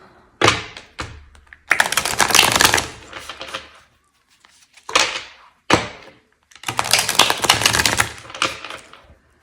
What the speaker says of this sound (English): Not the easiest deck to shuffle.